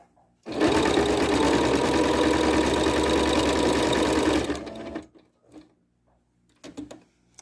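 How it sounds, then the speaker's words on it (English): A sewing machine runs a serpentine stitch on a quilt-as-you-go block, whirring loudly and steadily for about four seconds before stopping, followed by a few faint handling sounds. "I'm doing the serpentine stitch"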